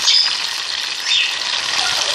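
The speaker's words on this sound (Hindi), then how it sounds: "ये गया हमारा टमाटर प्याज, ये गया हमारा लहसुन अदरक" Tomato, onion, garlic and ginger sizzling hard in a pan with beef for karahi, a steady bright crackle with small bursts as the ingredients hit the oil, with no talking.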